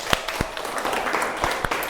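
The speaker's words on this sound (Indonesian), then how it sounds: "Sekali lagi kita beri tepuk tangan." A few scattered handclaps from a classroom group during an Islamic religious education lesson, sparse and uneven over a low room murmur.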